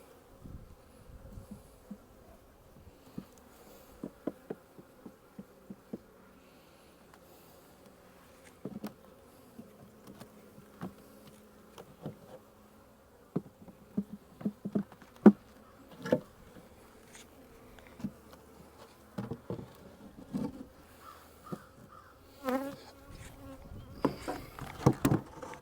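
Honey bees buzz around a hive topped with honey supers on a chilly spring day, a faint, steady hum broken by scattered light taps and ticks that grow busier toward the end, with no voices.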